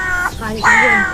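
A pet mimic bird gives two harsh, crow-like caws in quick succession, close and fairly loud, imitating a crow call.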